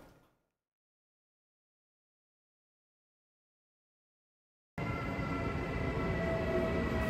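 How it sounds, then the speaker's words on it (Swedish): Train noise at a station platform in Skövde, Sweden, where trains depart for Stockholm from track 1: a steady, loud rumble of a train with a faint high squeal, arriving abruptly after near silence and continuing to the end. "här går tågen till Stockholm från spår 1"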